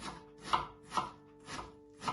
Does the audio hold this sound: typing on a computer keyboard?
no